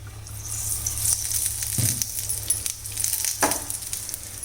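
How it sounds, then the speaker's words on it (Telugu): An aloo paratha frying in oil on a hot pan, a soft steady sizzle with a few louder crackles and light clinks of a utensil, close and quiet with no talk. "ఇలా కాలింది కదా, కొంచెం ఆయిల్ వేసుకున్నాం."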